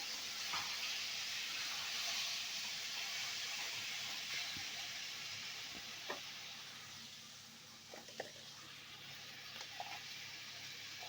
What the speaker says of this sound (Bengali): এভাবে নেড়ে চেড়ে জলপাইটা ভেজে নিতে হবে।